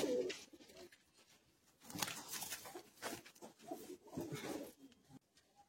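Pigeons coo in a home breeding loft, soft throaty calls in irregular bursts, fairly close, with rustling and other small noises between them.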